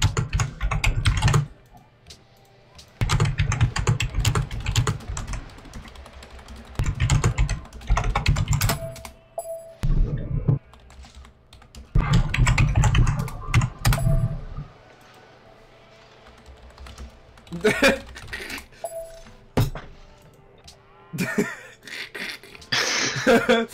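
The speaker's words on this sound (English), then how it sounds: "let's keep typing to each other" Fingers clatter on a computer keyboard in bursts of rapid typing broken by short pauses, close and fairly loud, with occasional clicks and faint throat noises.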